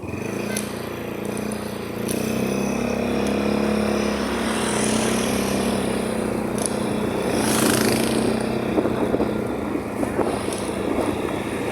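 A motorcycle taxi engine hums continuously during an angkas ride, joined by steady wind rush and road noise, moderately loud and close throughout.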